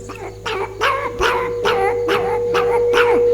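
A man imitates a hungry puppy's cries, making a series of about seven rhythmic, whining yelps with a steady hum underneath, close and fairly loud.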